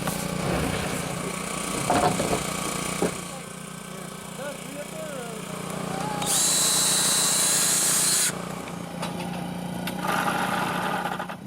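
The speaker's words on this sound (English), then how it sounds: "Drilling has been my favorite task." A power drill runs in one loud, steady burst of about two seconds near the middle, with quieter mechanical noise and voices in the background before and after.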